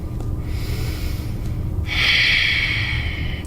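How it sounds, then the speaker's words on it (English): Breathing during a yin yoga pose: a close, soft exhale through the nose, then a louder, breathy inhale or sigh, heard alone without talk. "Breathe here."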